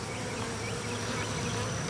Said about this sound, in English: the bees buzzing